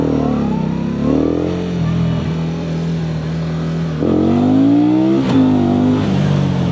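A KOVE 625V Lancer motorcycle pulls away hard in first gear, its engine note climbing in a rising drone with a brief dip, then surging again, close and loud throughout.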